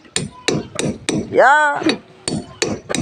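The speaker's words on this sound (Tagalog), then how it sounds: "Konting pukpok." Steady hammer blows strike while something is forced into a tight fit, a burst of loud, even metallic knocks, a brief pause, then more knocks, with a short spoken word in between.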